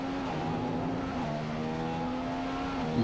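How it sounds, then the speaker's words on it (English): Formula 1 car in a racing game at the Canadian round, the engine note climbing steadily through the gears with a steady loud drone and a shift near the end, heard alone. "As you can see, we're going up through our gears."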